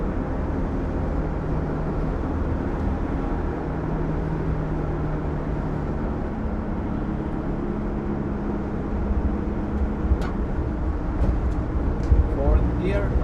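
A VW T3 Syncro's 094 gearbox runs in third gear with a steady, dense mechanical drone and low hum that continues throughout, ending with a few sharp clicks and rattles near the close.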